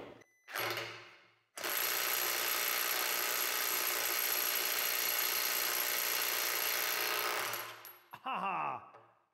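A power impact wrench loosens bolts torqued to 150 Nm, giving a brief burst, then a loud, sustained hammering rattle for about six seconds before stopping, followed by faint mechanical clatter.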